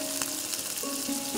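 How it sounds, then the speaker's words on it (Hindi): Mushroom biryani spices frying in a pan with kewra water added, a steady close sizzle that stays even and continuous with no talk. "मसाले हमारे फ्राई हो गए हैं। अब हम इसमें क्योड़ा वाटर ऐड करेंगे"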